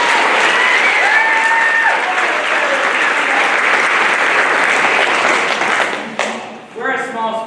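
Applause from a school spring band concert audience, loud and full for several seconds before thinning out near the end, when a brief voice and some tonal sound emerge.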